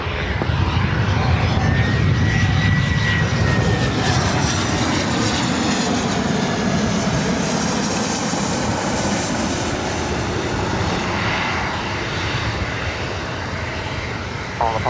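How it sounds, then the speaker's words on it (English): A Western Global cargo jet passes directly overhead near LAX, its broad engine roar loud and steady throughout, swelling slightly mid-pass before easing off. "We do have that Western Global Queen flying directly above me here, heading to the south side."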